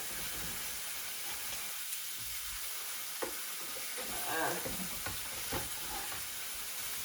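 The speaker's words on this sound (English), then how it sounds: "steak on the grill. So see how that looks? See all those juices? That's the ribeye." A ribeye steak sizzling on a stovetop grill, a continuous moderate hiss of juices frying with small crackles, heard alone and fairly close.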